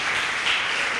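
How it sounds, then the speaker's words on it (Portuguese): Church congregation applauding, a dense, sustained wash of clapping that fills the whole moment, loud and close with no clear individual claps standing out. "Você pode, querido, querida, aplaudir Jesus com alegria?"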